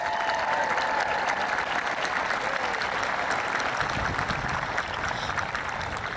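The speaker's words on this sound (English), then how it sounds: "Please join me in giving them a round of applause" A large graduation crowd applauds steadily for the choir, color guard and symphonic band at a commencement ceremony, a dense unbroken wash of clapping that holds level throughout.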